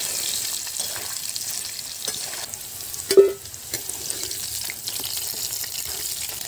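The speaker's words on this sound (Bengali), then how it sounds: "আমাদের ভাজা হয়ে গেছে, খুব বেশি ভাজবো না, হালকা হালকা ভেজে এবার এটাকে আলাদাভাবে তুলে নেব।" Food lightly frying in a kadai with salt and turmeric, a soft continuous sizzle close by, with a brief sharp clink of a utensil midway and faint stirring noises.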